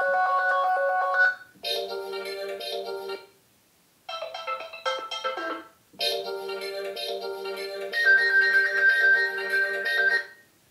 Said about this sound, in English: you will be presented with a large selection of ringtones